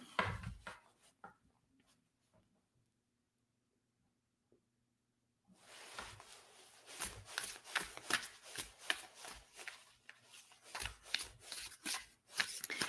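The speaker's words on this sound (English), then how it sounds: "I'm putting these cards away" Tarot cards are handled and put away after a near-silent stretch, with a run of crisp riffling, tapping and shuffling sounds that come in quick, uneven bursts close by.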